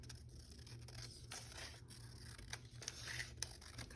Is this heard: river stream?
no